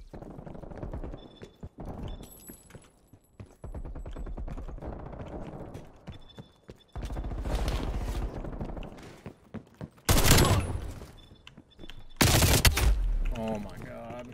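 Video game gunfire in Call of Duty Cold War Gun Game mode, with rapid automatic bursts, scattered single shots and a few loud blasts near the end, all under a player's talk.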